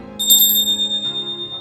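A single bright bell ding sounds as a notification effect, struck once and close, then ringing out with a wavering, shimmering decay.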